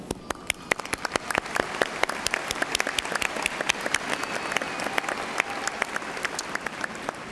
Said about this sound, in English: you deserve a round of applause from everyone